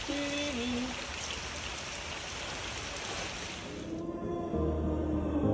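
Steady rain shower pattering on surfaces in the Corrèze countryside, a dense even hiss of drops that drops away sharply near the end, leaving quieter ambience with low tones.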